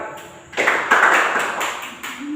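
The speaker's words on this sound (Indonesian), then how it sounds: "Tepuk tangan." Classroom of students clapping hands together on cue, a burst of overlapping claps spreading across the room and fading after about two seconds, fairly close.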